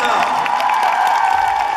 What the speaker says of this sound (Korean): 다시 한번 선수여러분께 뜨거운 박수를 부탁을 드리겠습니다